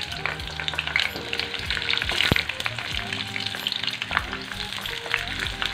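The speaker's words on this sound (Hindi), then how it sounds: "अब हम इसमें परवल डालेंगे और इसे एकदम तेज फ्लेम पर तल लेंगे।" Pointed gourd (parwal) frying in hot oil in a wok over a high flame gives a loud, close, continuous sizzle, with repeated clinks and scrapes from stirring layered on top.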